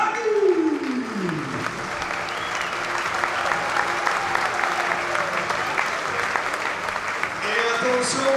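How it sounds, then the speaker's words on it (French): Aviron Bayonnais rugby supporters applaud loudly and steadily at a stadium squad presentation, a dense crowd clap filling the whole stretch while an announcer's amplified voice rings out over it. "On les applaudit très fort"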